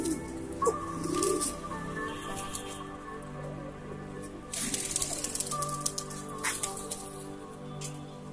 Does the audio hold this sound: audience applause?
no